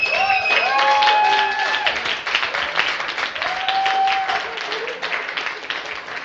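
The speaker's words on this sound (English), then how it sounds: "Let's give Carlos and Shannon a huge, but really, really huge round of applause, please" An audience at a coding bootcamp demo day claps loudly and continuously, with shrill whistles cutting through the dense applause, which stays strong before tapering slightly toward the end.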